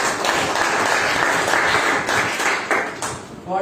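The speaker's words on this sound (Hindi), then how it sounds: "तो एक बार जोरदार तालियां मिस्टर अजय जी के लिए।" A crowd claps loudly and steadily for several seconds to welcome Mr. Ajay at an academy gathering, a dense wash of applause that stays fairly even before tapering slightly at the end.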